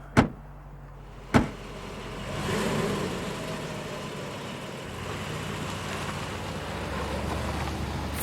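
A car door slams twice in quick succession, then an engine starts and idles before the car pulls away, its steady mid-pitched rumble continuing at moderate distance with no talk.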